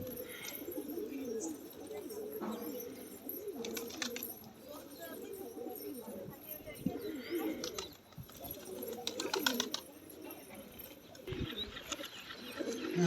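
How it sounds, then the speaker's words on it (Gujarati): Pigeons coo in soft, repeated low murmurs, several birds overlapping close by in a calm setting, with occasional faint voices and small rustles. "જોઈ લ્યો કબૂતર આપણા બધા"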